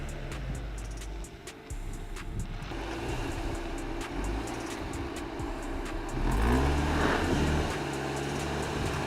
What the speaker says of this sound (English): The engine revs up and the wheels slip slowly.